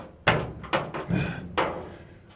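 A bent van door is pulled open, giving a few loud nearby clunks and bangs spread over about two seconds, with no one talking.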